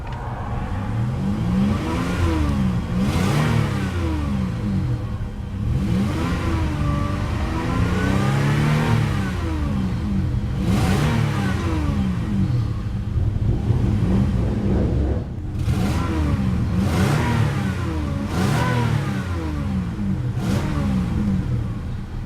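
A 1998 Lexus ES300 engine revs repeatedly, rising and falling in a series of close, loud surges with brief dips between them.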